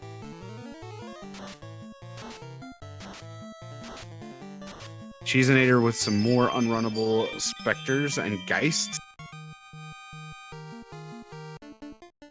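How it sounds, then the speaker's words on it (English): Indoor wind chimes ring in a bright, jangling burst of tinkling metal that rises to a loud cluster midway, while someone talks over the chiming. "Pardon the indoor wind chimes."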